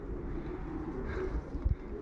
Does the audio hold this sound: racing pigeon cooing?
yes